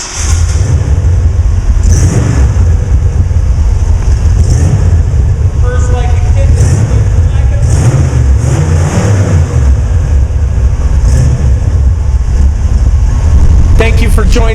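A 1957 Ford Custom shortbody classic car engine running at idle with a loud steady rumble, close by and continuous, while a voice talks over it at times.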